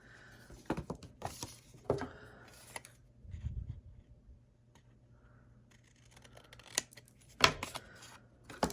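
Scissors snip through paper for a candy gift box, a series of faint, sharp cuts spaced irregularly, with quiet handling rustles between them in a quiet room.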